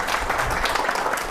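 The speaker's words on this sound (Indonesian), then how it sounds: "Tepuk tangan dong" A brief, steady burst of audience clapping during a business talk about a company going public, dense and evenly loud.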